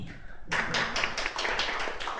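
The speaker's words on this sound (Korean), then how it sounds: "박수 한번 주십시오" Audience clapping at a lecture on inventions and patents, a brisk round of applause starting abruptly and continuing steadily with a fairly even rhythm, moderately close, no talk over it.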